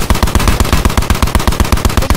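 Rapid automatic gunfire in Black Ops 4 Blackout mode, a steady string of loud, evenly spaced shots, roughly five per second, that continues without pause and with no talking.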